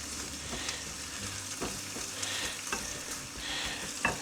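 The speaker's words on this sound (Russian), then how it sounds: "яблоки нам надо пережарить или протушить" Apples frying in a pan give a steady close sizzle, with soft scrapes and clinks from stirring breaking through now and then.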